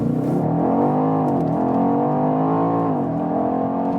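A BMW X5 M Competition accelerating hard, its engine a loud, rich, continuous roar that rises and then settles, heard close up with no voices.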